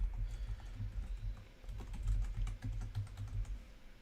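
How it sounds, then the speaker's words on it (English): Steady, rapid keystrokes on a computer keyboard fill the stretch, an irregular close clatter with brief pauses and no talking, set during a live basketball preview stream. "I know, I'm still typing."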